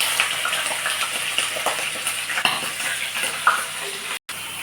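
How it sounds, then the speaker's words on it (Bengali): Washed chicken pieces hitting hot oil with crushed cardamom, cinnamon and cloves in a pan, giving a loud, steady sizzle with occasional stirring scrapes and spatters, no voices over it. "এবার আমি ধুয়ে পরিষ্কার করে রাখা চিকেনটা দিয়ে দেব।"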